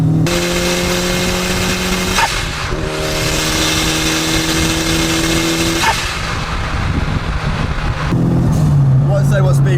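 A Fiat Uno Turbo pulls onto a motorway, its engine note rising steadily in pitch through the gears with a loud, continuous drone and brief dips at the shifts, heard from inside the thin-bodied cabin.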